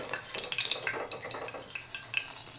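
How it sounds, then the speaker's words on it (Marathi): Slit green chillies and fasting bhaji fritters fry in hot oil, with close, busy crackling and sizzling broken by bright pops and stirring. "पूर्ण मिरची तेलामध्ये टाकली की ती उडण्याची शक्यता असते म्हणून आपण ह्या मिरचीमध्ये चीर पाडायची आणि त्यानंतर आपण ह्या भाजी तळून घ्यायची"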